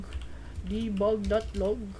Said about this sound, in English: What am I typing here?